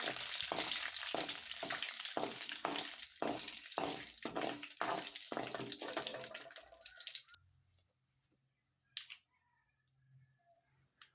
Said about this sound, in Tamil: கடலைப்பருப்பு வந்து பொன்னிறமாக வர வரைக்கும் நான் வறுத்துக்க போகிறேன்